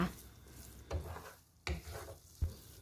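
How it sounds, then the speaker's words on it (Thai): Sticky rice with sugar being stirred in a pan, the sizzling, scraping stir strokes repeating in a steady rhythm up close with no talk. "เราก็จะกวนนะคะข้าวเหนียวของเราจนกว่า น้ำจะแห้งนะคะ"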